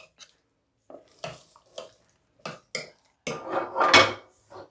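Spices being mixed into appe batter in a bowl, with separate close clinks and scrapes of a spoon against the bowl, then a longer wet stirring stretch, with silent gaps between strokes.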